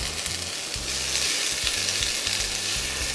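Onion sizzles in a hot pan with a steady, bright crackle, close and continuous, with a faint rhythmic low hum beneath and no talking.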